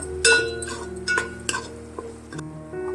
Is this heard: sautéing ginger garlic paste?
yes